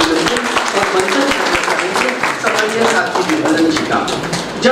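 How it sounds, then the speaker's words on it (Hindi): Audience applause at a Hindi book launch ceremony for a poet's works, a dense steady clatter of many hands filling the whole stretch, with a voice speaking over it. "एक बार फिर हम तालियों के साथ अभिनंदन और मंचन"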